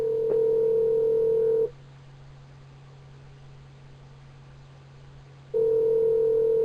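Ringback tone of an outgoing telephone call: a steady electronic purr for almost two seconds, about four seconds of quiet line hiss, then the tone returns. No one talks.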